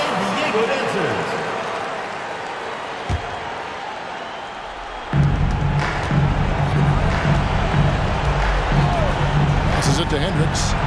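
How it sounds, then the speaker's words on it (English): Arena crowd at a college basketball game applauding the San Diego Dancers, a broad roar of clapping and cheering that swells partway through and continues loudly to the end. "Let's give them a round of applause for San Diego Dancers."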